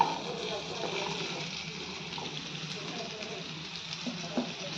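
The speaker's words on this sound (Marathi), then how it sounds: "आता आपली ही कोट केलेली भेंडी टाकून घेऊयात." Coated okra (bhindi) dropped into hot oil in a pan for bhindi masala, a steady soft sizzle and crackle of frying that runs continuously at low level close by.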